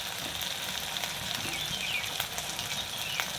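Onion paste, fried until reddish, sizzles steadily in a pan as ground spices go in, a close, continuous hiss with faint crackles and light stirring.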